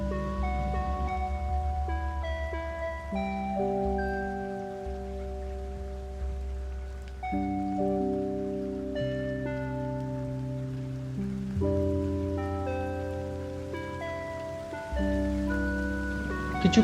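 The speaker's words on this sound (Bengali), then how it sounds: "কিছুক্ষণ বৃষ্টিতে দাঁড়িয়ে তারপর বৃষ্টি কমতেই আমরা খুব অল্প সময়ের মধ্যে এখানে এসে পৌঁছালাম" Rain keeps falling on surfaces at a roadside stop near Rongo, a continuous, even patter that lasts throughout, layered with steady musical tones and no voices.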